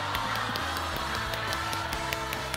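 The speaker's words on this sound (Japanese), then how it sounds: "これは拍手でしょう。" An audience applauds and cheers at a live stage event for a mobile game festival in Hiroshima, with steady clapping under loud music and crowd noise.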